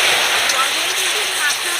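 Water poured into hot caramelizing sugar for a rich Christmas fruit cake, giving a loud, steady hiss and sizzle throughout, with a voice talking over it.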